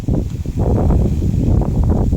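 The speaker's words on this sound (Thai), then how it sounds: "โอ้ย ลมแรงมากเลย" Strong wind buffets the microphone outdoors while people forage for bamboo shoots. Loud, rumbling gusts swell and fade unevenly throughout, with no voices heard.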